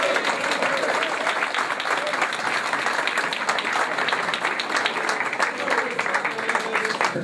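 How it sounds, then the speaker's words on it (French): Dense, sustained applause from an audience at a torball championship awards ceremony, loud and steady throughout with faint voices mixed into the crowd. "Donc je voudrais vraiment vous applaudir."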